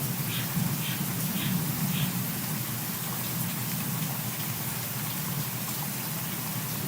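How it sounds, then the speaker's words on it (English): Rain falls steadily outside, an even close hiss of drops that never lets up, with a few faint higher ticks. "It sounds like it's raining directly in your room."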